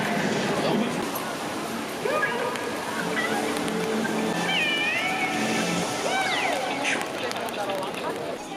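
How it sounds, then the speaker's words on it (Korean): A cat meows several times in Shinjuku, Tokyo, rising and falling cries close by, over a constant wash of heavy rain and background noise. "신주쿠에 왔으면 고양이도 보고 가야죠"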